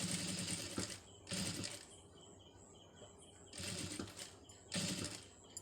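A sewing machine stitches a scallop design along a fabric border, running in four fast, steady bursts separated by short pauses, close and fairly quiet, with no voices.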